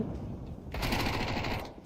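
Automatic gunfire in Counter-Strike 2, a rapid rattling burst of shots that starts abruptly after a quiet moment and keeps firing steadily to the end.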